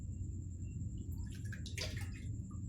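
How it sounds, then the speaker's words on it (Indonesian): Water poured over a baby's head during a bath, a brief close splash and trickle rising midway through and fading, over steady low background hum. "Kemudian siram kepala bayi"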